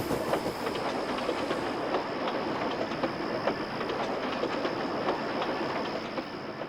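A train in the Sodor Online video game pulls away, a continuous loud rumble with rhythmic clickety-clack of wheels over rail joints and a faint hiss, steady throughout with no voices.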